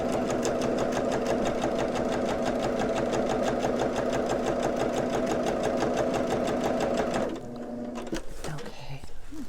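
A sewing machine stitches pieces of a transparency pocket in a steady, fast, loud mechanical run that stops abruptly near the end, followed by brief handling sounds.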